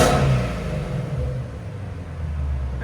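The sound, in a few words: Ford Mustang GT350 5.2L Voodoo V8 exhaust with X-pipe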